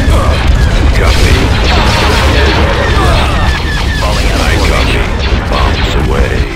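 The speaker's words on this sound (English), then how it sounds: "Bombs away. Bombs deployed." Bombs explode in the Star Wars: Empire at War strategy game during an Imperial assault on Hoth, a loud, dense wall of rumbling blasts and battle noise that continues without letup.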